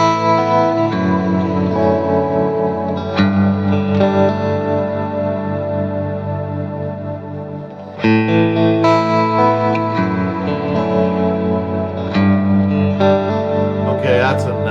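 Electric guitar played through a Fractal FM3 amp modeler on a clean tone with lush reverb, sustained chords and notes ringing out loud and continuous, with fresh strums around three and eight seconds.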